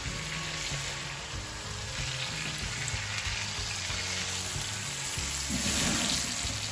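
Steaks sear in a hot pan with a close, steady hiss and crackle that swells slightly toward the end.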